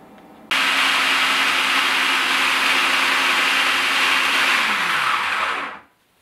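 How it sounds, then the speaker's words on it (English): Blender attachment grinding apples into applesauce, a loud steady motor whir that starts abruptly, holds an even drone for several seconds, then winds down and stops. "Process the apples with the blender attachment for several minutes."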